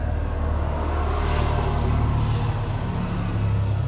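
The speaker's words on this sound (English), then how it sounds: "Like these guys on their bloody ATVs and quad bikes riding up and down the road all the time." ATVs and quad bikes riding along a road, heard as a continuous broad engine rumble and road noise at moderate distance, steady throughout with no talking.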